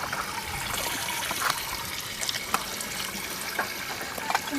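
Water trickles and splashes steadily into a container at a campsite in Calatagan, Batangas, with faint clinks and drips along the way.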